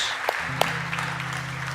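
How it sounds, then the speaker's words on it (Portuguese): A church congregation claps in a soft, moderate wash, with a few sharper claps standing out early. A low sustained hum sits beneath the clapping. "Pode dar uma salva de palmas a Jesus"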